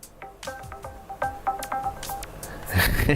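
A BlackBerry phone gives off a run of short electronic key tones while a button is pressed and held, the beeps stepping and repeating close by, with a burst of rustling handling noise at the end.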